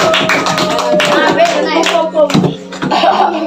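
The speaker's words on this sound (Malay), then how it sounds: "Bagi tepukan kepada Nabil." Students in a classroom at an alternative learning centre on Pulau Opak clap for a classmate named Nabil, a brief burst of hand claps and taps heard under ongoing talking and a little laughter.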